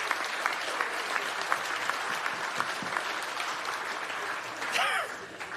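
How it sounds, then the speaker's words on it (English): Audience applause at the Fieldays Innovation Awards prize presentation, a sustained, even crowd clapping that fades near the end as a voice briefly rises over it. "What about a round of applause for all those prizes?"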